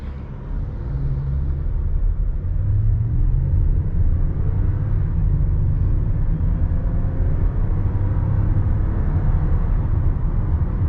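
A 2017 Lexus ES350 accelerates while driving, heard from inside the cabin as a steady, loud low engine and road rumble with a slight rise in pitch, continuous and with no talk.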